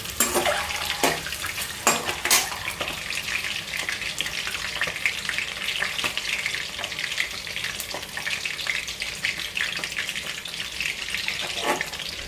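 Eggs fry in hot oil in a pan for an egg curry, with a loud, dense, continuous sizzle close up and scattered clinks of a utensil against the pan.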